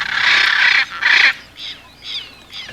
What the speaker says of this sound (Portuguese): é justamente neste ponto que as araras azuis falam mais alto